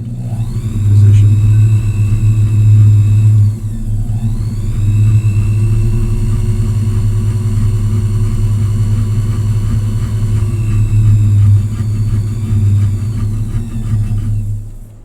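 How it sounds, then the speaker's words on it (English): A clock part spun on a lathe while being filed down, a steady loud motor whir and rumble running throughout with scraping filing noise riding on top, no talking. "I'll just start spinning and filing until it gets down to the right position"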